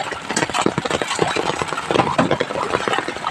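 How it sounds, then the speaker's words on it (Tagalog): An old diesel engine drives a tube well water pump, running steadily nearby with a rough, continuous mechanical rumble and knocking texture throughout, with no talk over it. "So, kung makipansin po natin yung makina,"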